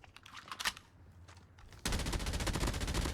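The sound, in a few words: burst-fire weapon shooting in a video game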